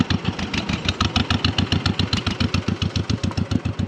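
Kubota tractor engine running on a farm during pepper planting, a steady, loud, close chugging idle with a fast even pulse and no talk.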